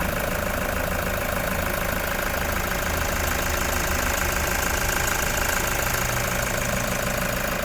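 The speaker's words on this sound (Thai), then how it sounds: "ตอนนี้สตาร์ทเครื่องยนต์อยู่นะคะคุณลูกค้าฟังเสียงเครื่องยนต์ได้เลยค่ะ" A 2015 Toyota Commuter van with a 3.0 litre diesel engine idles steadily, a loud continuous clattering rumble recorded close up with no pauses and no talk.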